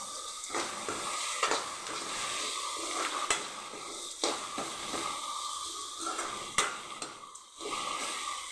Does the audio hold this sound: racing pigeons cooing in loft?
no